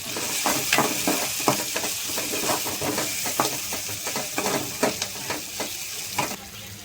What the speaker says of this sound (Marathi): तर आता आपण हलवून घेऊया